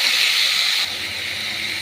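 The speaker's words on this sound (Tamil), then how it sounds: "வெங்காயம் நல்லா வதங்கிறதுக்காக தேவையான அளவு உப்பு போட்டு இதை நல்லா வதக்கணும்" Onions sautéing with salt in a pan give off a close, continuous hiss of sizzling, with a slight drop in level partway through and no voices.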